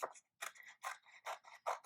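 Scissors snip through paper for an art project, a quick series of five or six crisp cuts in a steady rhythm, close and fairly quiet, with no talking.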